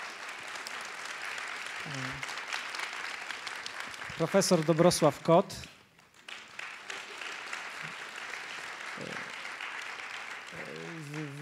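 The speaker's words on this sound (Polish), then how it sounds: "Gorące brawa." Applause from a seated audience at a panel discussion, moderate and continuous under a host's voice announcing a guest name, with a brief louder burst of speech midway.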